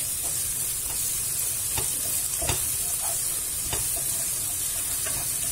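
Tomato paste sauce sizzles in a pan, a steady close hiss under scattered soft clicks and stirring taps, continuous throughout with no voices.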